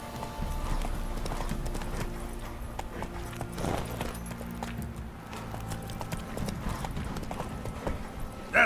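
A horse's hooves clip-clop in a quick, galloping rhythm in The Witcher 3, close and steady over a low background, with a faint whinny.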